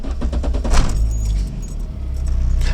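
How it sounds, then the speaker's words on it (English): Keys jangle close by, then a 1996 Volvo 440 engine starts and settles into a steady low rumble at idle. "Start the engine."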